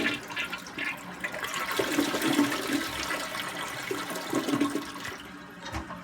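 A hotel room toilet flushes with a loud, rushing gurgle of water that holds steady for several seconds before tapering off, close up and alone.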